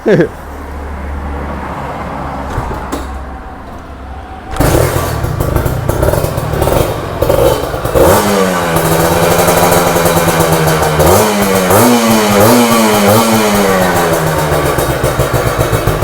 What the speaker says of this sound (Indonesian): Langsung saja akan ku cek soundin untuk suara mesin Ninja RR ini